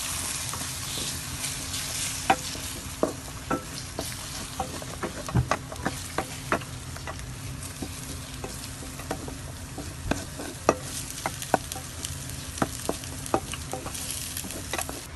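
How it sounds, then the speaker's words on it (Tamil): A beaten egg fries and sizzles in a pan for nasi goreng while a utensil stirs it, steady hiss under sharp scraping clicks and taps at an irregular pace, close and alone with no voices. "அடுத்த முட்டை, நன்றாக கிண்டவும்."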